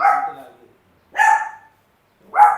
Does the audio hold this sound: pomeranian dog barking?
yes